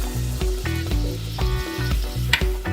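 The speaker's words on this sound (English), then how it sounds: "make sure you mix it and cook off all the flour before you add in all the reduced gravy" Butter and flour roux sizzling and frying in a pot as it is stirred, a steady close crackle with rhythmic scraping strokes of the spoon, no talking.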